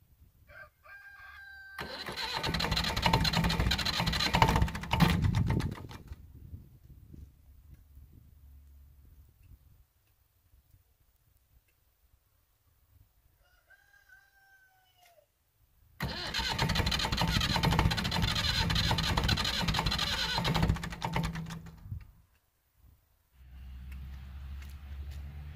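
A Ferguson MF35 diesel tractor cranks and fires in cold weather after glow plug preheating, running loud and close for several seconds, then falling quiet before a second start and run; a rooster crows faintly in the background.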